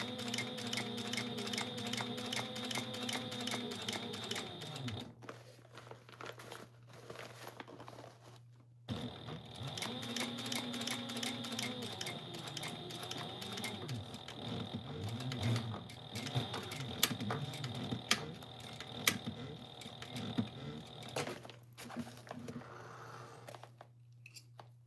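A sewing machine runs steadily while topstitching garment side seams, a continuous close mechanical whir that pauses briefly near the middle and then resumes with a few sharp clicks.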